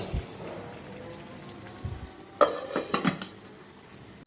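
A metal lid set down on a pan of simmering egg korma, giving a few sharp clanks and rattles in quick succession over a quiet kitchen background.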